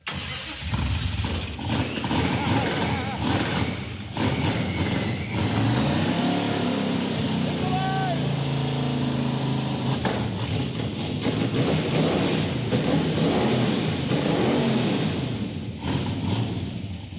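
A loud 1975 AMC Gremlin engine with side exhaust cranks and runs with a rough, raspy exhaust note, idling unevenly and revving up close by.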